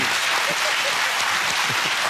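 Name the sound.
studio audience applause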